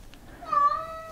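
A single cat meows alone, a clear drawn-out cry that rises and holds for about half a second close to the microphone in a quiet room.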